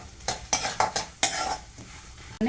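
Cashews, almonds and sunflower seeds being dry-fried for dry fruit laddu, with a run of scraping stirs and rattling clatter from the pan, close and fairly loud with short gaps between strokes.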